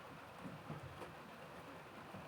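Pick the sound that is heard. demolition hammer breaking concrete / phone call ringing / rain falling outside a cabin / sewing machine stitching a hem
rain falling outside a cabin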